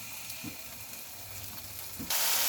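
Spices fry with beaten sour yogurt for a prawn curry, giving a low, steady sizzle with a couple of soft stirring knocks, then a sudden louder hiss near the end, with no talking.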